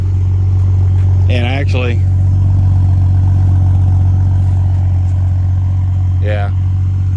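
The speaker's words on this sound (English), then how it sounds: "I'm getting ready to go on my last drive with the Z." The Ronin Z car's engine holds a steady, loud low drone while driving, with a voice speaking briefly over it.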